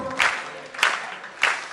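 Three slow, widely spaced hand claps from an audience at a Hindi poetry recital (kavi sammelan) held at IIT, each a sharp, moderately loud burst separated by short silences.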